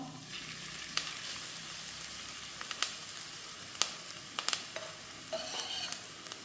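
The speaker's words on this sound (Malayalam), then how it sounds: "എണ്ണ നല്ലോണം ചൂടായി. നമുക്ക് ഉള്ളി ഇട്ട് കൊടുക്കാം." Onions sizzle and crackle steadily in hot oil while cooking Kerala-style fish thoran, with scattered pops and spits over a constant frying hiss; no one speaks.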